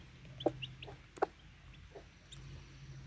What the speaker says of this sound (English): These two little chicks